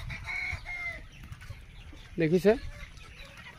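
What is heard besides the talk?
chickens on a poultry farm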